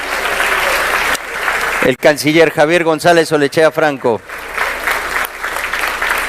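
Ceremony applause for Peru's foreign minister at a university award event, a steady clapping roar that drops under a loud announcer's voice for a few seconds and then surges back alone.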